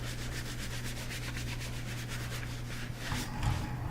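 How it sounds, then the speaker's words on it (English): A dry cloth rubs glaze into painted wood in steady back-and-forth strokes, a close, continuous scratchy swishing with a rhythmic pulse and no talk. "I'm going to take a dry cloth and just kind of rub it in."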